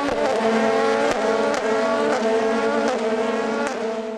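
LMP2 prototype race cars at Monza during the 2022 European Le Mans Series 4 Hours, sweeping around Curva Grande: a loud, continuous high-revving engine roar with brief gear-change blips, close and dominating, with no talking.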